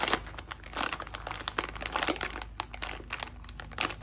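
A plastic chip bag is crinkled and crunched by hand up close, giving irregular bursts of crackling rustle with short pauses between squeezes.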